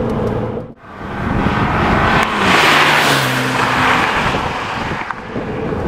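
Porsche 911 Turbo accelerating hard as its turbos come on, a loud, close engine roar that swells and then holds with road and wind noise.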